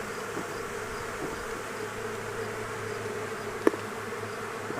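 Honey bees swarm around an open hive during an inspection, giving a constant close buzzing hum with one bee darting sharply past the microphone near the end.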